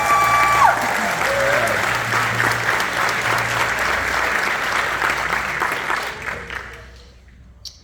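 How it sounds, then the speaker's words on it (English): A high school band concert audience claps loudly and steadily, a full round of applause that holds for several seconds before thinning out and fading near the end. "Let's give a round of applause for that."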